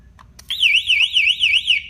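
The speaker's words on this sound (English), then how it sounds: "We still have our siren." A personal safety alarm device's siren sounds after a drop test, a loud close warbling electronic wail that rises and falls rapidly after a couple of brief clicks.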